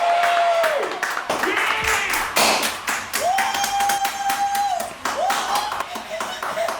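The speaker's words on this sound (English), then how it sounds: "Let's get a round of applause from the set we got going on here." Studio audience clapping and applauding on the set of a new show, a sustained burst of claps with bright cheering tones rising above it.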